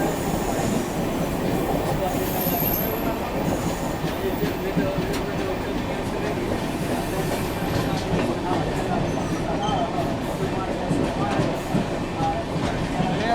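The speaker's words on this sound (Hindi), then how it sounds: "सामने से आ रही है दोस्तों 22361 राजेंद्र नगर नई दिल्ली अमृत भारत एक्सप्रेस आती हुई" Amrit Bharat Express 22361 running from Rajendra Nagar to New Delhi pulls in past the platform with a steady loud rumble of wheels and carriages, a sustained rolling roar that holds for the whole stretch.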